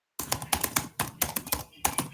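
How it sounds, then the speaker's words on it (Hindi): Typing on a laptop keyboard, a quick irregular run of crisp key taps close to the microphone, about a dozen strokes in two bursts with a brief pause between. "ये देखो लैपटॉप में टक टक टक कर रहे हैं,"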